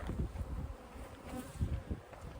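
Honeybees buzzing around beehives in a bee yard, a close, continuous hum with individual bees droning past, no voices.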